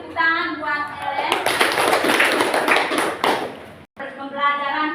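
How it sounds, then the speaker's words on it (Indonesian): Students in a junior high classroom at SMPK Rokatenda Palue clap for a classmate, a dense burst of hand claps lasting a few seconds between stretches of a teacher's voice, fairly close and loud. "tepuk tangan buat Ellen"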